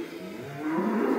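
Cattle lowing in a supplier's livestock pen where thin, recently weaned cows are kept, a drawn-out moo that swells louder toward the end over steady barn noise.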